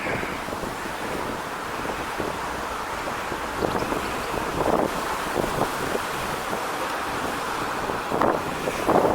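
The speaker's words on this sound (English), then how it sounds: "Oh, wind's picking up again." Strong wind blowing outdoors beside the John Rylands Library in Manchester, a steady loud roar buffeting the microphone, with gusts swelling now and then and no voices.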